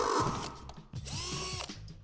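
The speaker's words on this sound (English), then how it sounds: "Drill out this divot on the back of the door with the provided drill bit." A power drill bores through the first metal layer of a tube on the back of a plastic storage shed door, whining in short bursts with rising and falling pitch and some grinding clatter, close and loud.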